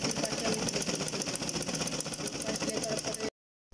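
A sewing machine stitches fabric for a five-year-old child's dress, running in a loud, steady, rapid mechanical whir close by, then stopping abruptly near the end.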